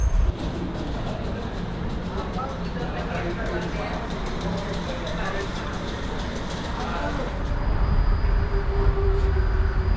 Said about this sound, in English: We are lucky enough to see also the train here.